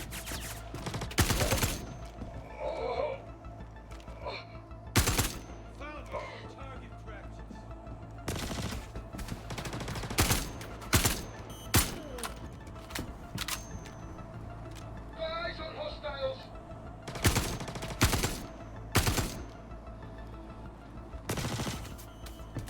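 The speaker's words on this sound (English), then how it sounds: "Oh, somebody's shooting at me." Video game gunfire as someone shoots, sharp separate shots and short bursts scattered irregularly across the stretch, loud and close, with a voice talking in places between them.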